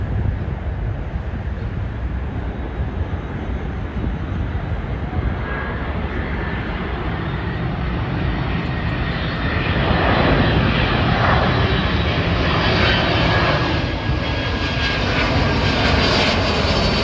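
A JetBlue Airbus A321 jet airliner from St. Martin passes overhead, a loud, sustained engine roar that swells slightly as it goes by, with no voices over it.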